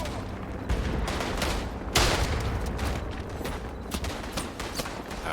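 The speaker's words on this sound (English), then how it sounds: "Artillery!" Artillery and rifle fire in the World War I shooter Tannenberg: a dense, continuous battlefield barrage of overlapping shots and blasts, with one heavy boom standing out and further sharp reports scattered throughout.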